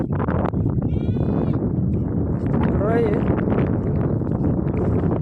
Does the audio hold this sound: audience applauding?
no